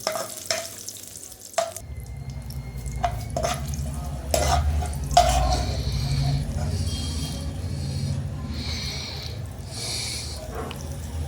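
Five or six green chilies fry in hot oil in a pan for chicken fry, a bright sizzle rising after a few sharp clatters as they drop in, with spoon stirring scrapes over a continuous crackle.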